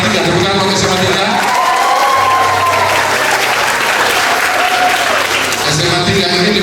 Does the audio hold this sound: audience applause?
yes